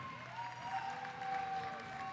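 Crowd at a junior roller derby championship applauding and cheering a raffle prize winner, a steady wash of clapping and scattered voices held at moderate distance for about two seconds, with faint tonal murmurs threading through.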